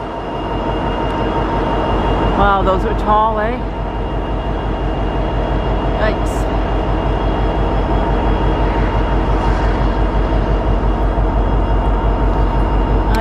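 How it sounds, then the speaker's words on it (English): A freight train rumbles loudly and continuously nearby, with heavy rolling wheel noise, a few brief squeals early on, and someone speaking briefly over it. "On my way home, and I see the train is in."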